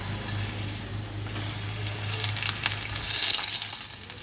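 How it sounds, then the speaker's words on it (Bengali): Luchi, puffed flatbread, deep frying in hot oil: a continuous close, soft sizzle and crackle that swells briefly toward the end, with no talk. "এখানে লুচি ভাজা হচ্ছে"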